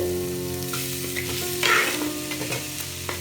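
Ingredients for chicken curry sizzle and fry in a clay pot, with a spoon stirring and scraping through them in short bursts, close and fairly quiet.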